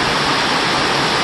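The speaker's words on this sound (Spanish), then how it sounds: "Miren que cómo está lloviendo" Heavy rain pours down during a hurricane in El Salvador, a dense, steady hiss of water with no other sounds.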